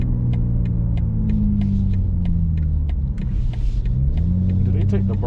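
A BMW G82 M4 Competition idles and rumbles steadily up close, its exhaust burbles somewhat muted, with a person talking over the low engine drone.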